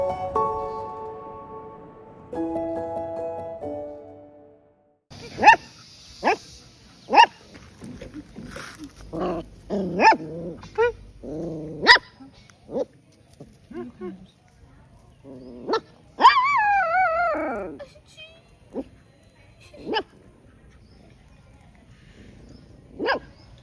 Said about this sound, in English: Look at those puppies, always sitting underneath Stylish leg.